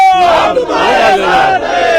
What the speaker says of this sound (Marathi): मोठ्या प्रमाणात या ठिकाणी आमदार संजय केळकर यांच्या कार्यालयाबाहेर जे आहे ते जल्लोष होताना आपल्याला पाहायला मिळतोय